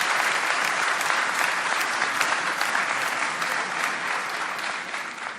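Sustained, steady applause from a large audience in an assembly hall after a formal speech, dense and even throughout, fading slightly toward the end.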